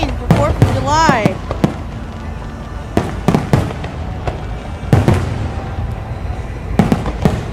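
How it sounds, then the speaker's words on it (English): A Fourth of July fireworks show sends out loud, sharp bangs at irregular intervals, some close together and others spaced apart, while people exclaim and talk over them. "A fireworks show to be seen for 4th of July."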